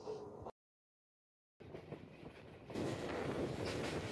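Tista Express train running through Sreepur railway station in Gazipur, a moderate rolling rumble with clickety-clack of wheels, cut by a second of silence before swelling louder and nearer.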